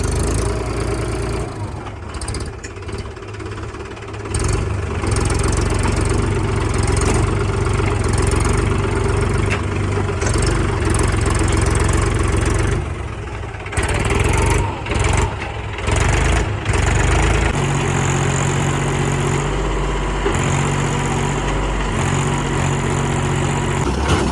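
A loud tractor engine runs continuously nearby as the tractor is stuck, rough and rumbling, rising and dipping slightly in intensity, with no talking.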